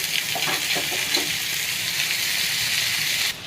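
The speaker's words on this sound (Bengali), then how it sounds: "এবার ভেজে রাখা আলুগুলো দিয়ে দেবো। এবার কষানো বাঁধাকপিগুলো দিয়ে দেবো।" Chicken sizzles and fries in a pan as fried potatoes and sautéed cabbage are added, giving a steady bright hiss with a few soft stirring knocks early on, then quieting near the end.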